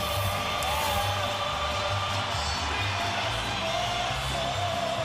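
Dense crowd roar filling a packed boxing arena before the Pacquiao vs De La Hoya fight, with flags from several nations waving, a steady loud wash of cheering and whoops throughout.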